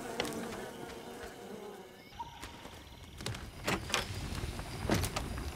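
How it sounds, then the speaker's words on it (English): Bees buzz in the video game Len's Island with a close, wavering insect drone mixed with scattered clicks and bumps from the game. The sound stays fairly faint and continuous across the whole stretch. "No bees!"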